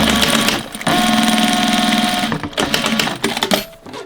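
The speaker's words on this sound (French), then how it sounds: "je fais une couture à 1 cm sur les petits côtés" A sewing machine stitches a 1 cm seam along the short sides of a three-layer fabric barrier mask, running in a steady whirring burst, pausing briefly, then resuming in shorter stop-start runs.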